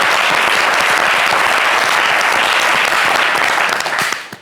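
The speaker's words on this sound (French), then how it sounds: "Ça s'applaudit, bien sûr." Studio audience on a French-language television talk show applauding, a dense loud burst of clapping held steadily for several seconds before tapering off quickly at the end.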